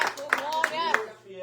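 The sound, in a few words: congregation clapping in church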